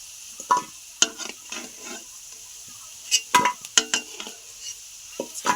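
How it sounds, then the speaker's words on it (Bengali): Potatoes and Malabar spinach deep frying in hot oil give a steady high sizzle, broken by sharp clinks and scrapes of a utensil against the pan. "ছাক্কা তেলে ভেজে নিয়েছি"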